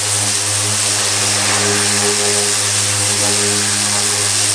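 Body filler on a drift car panel being sanded with 80 grit on a hard pad by a power sander, giving a loud steady droning whir with constant buzzing harmonics and broad gritty hiss, close and uninterrupted.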